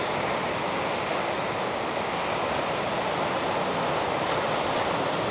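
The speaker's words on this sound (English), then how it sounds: "Quiet waves. Gonna put us to sleep." Quiet ocean waves wash on a dark beach at night, a continuous soft rushing surf with no distinct breaks, steady and even throughout.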